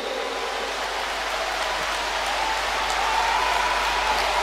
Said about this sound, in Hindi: जोरदार तालियों से आप सभी लोगों ने स्वागत करें।